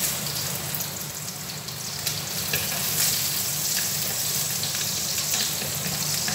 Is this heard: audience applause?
no